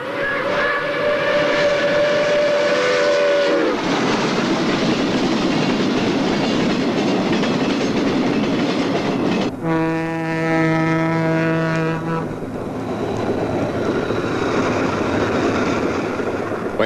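New York Central steam-era trains run past: loud, steady rumble with clickety-clack, a long steam whistle at the start and another whistle blast partway through.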